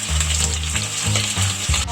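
Tenderized goat meat goes into a hot pan for kaldereta with coconut milk, setting off a loud, close, continuous sizzle and frying crackle with some stirring, and no speech.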